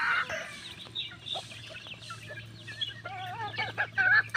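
Chicks in a coop peeping and clucking at feeding time, a lively overlapping chorus of small chirps over a low steady hum.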